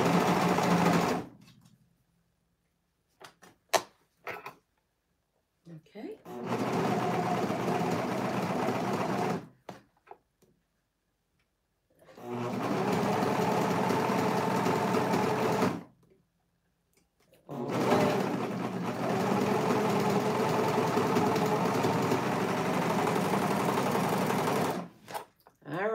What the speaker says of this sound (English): That is my Pfaff Admire Overlocker.